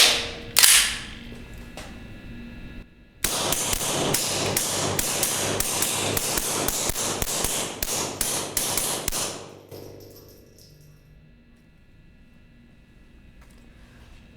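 A Sig P322 pistol firing CCI standard velocity .22 rounds at 5 yards: one early shot, then a quick string of about fifteen sharp, evenly spaced cracks, loud and close, fading to quiet.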